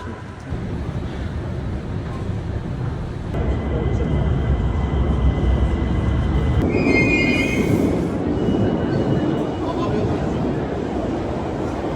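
A Tehran metro train at Baharestan station rumbles loudly and steadily nearby, with a brief high wheel squeal midway and a voice speaking over the noise.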